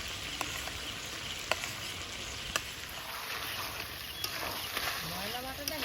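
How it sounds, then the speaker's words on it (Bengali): Ground spice paste hits hot oil in a pan of black pepper chicken, setting off a loud, steady sizzle with occasional sharp clicks of stirring, close by throughout. "এবার বাটা মশলাটা দিয়ে দেবো।"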